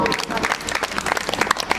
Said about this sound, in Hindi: एक बार ताली बजाओ अपने लिए